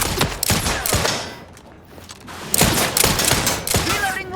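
Rapid bursts of gunfire in The Outer Worlds 2, loud and close, with repeated sharp shots clustered in two volleys around a brief lull, game voices mixed underneath.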